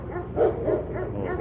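A group of dogs barks from across a fence, a few sharp barks and yips at moderate distance, heard alone.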